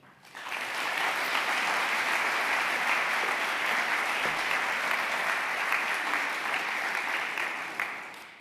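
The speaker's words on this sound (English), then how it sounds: "I'll give you about 8 out of 10 for that first clap" Sustained audience applause at a university research and innovation awards ceremony in Dublin, a dense, steady wash of clapping that fills the whole stretch without letting up before tapering at the very end.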